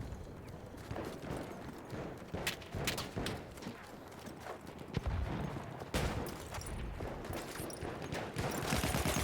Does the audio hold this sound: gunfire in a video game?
yes